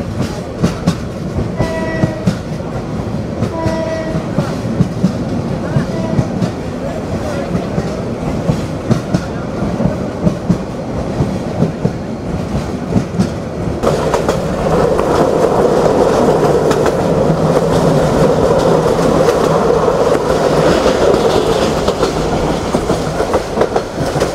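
Mohanganj Express train rolling through Joydebpur Junction in Gazipur, Bangladesh, with a loud continuous rumble and clickety-clack of wheels on rails, a brief horn-like tone early on, and the noise swelling louder midway.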